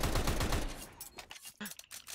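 Gunfire in the Counter-Strike video game, a quick burst of faint shots at the start that thins into scattered quieter pops and clatter, with no talk over it.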